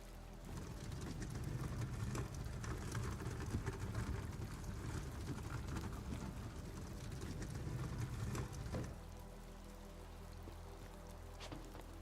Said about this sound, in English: Especially with it raining hard now.